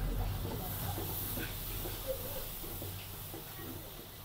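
Carrots and yardlong beans fry in a pan with a steady, continuous sizzling hiss at moderate level, unbroken across the clip with no talking.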